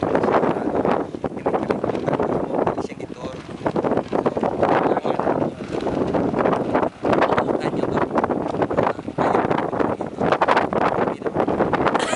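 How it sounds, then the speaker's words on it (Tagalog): Strong wind roars and buffets the microphone in a constant, loud rush with gusty surges throughout, on Kodiak Island, Alaska. "Lakas ng hangin"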